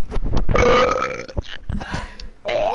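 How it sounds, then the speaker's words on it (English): One long, loud, close burp rumbles for about two seconds with a rising, voiced tone, and a short second belch follows at the end. "That was a burp."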